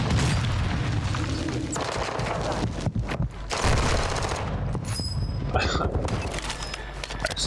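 An explosive going off in Call of Duty: Warzone 2.0 amid game combat: loud, dense booms and rattling gunfire that fill the whole stretch with brief dips.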